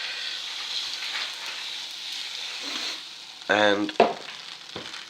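Pancake batter cooks in a hot, smoking pan with a steady close sizzle and hiss, followed by a brief tonal squeak and a knock from handling the pan, with a short spoken word near the end.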